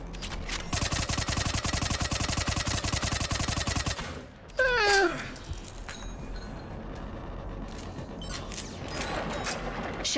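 Rapid bursts of automatic gunfire for several seconds, then a sharp electronic whine and mechanical clatter in a busy game soundscape, from the video game Mass Effect 3.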